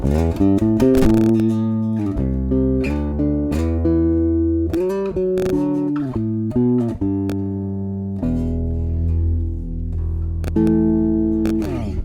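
A compressed electric bass on the P pickup only plays a solo line of plucked notes and slides, evenly loud and close, with no voices.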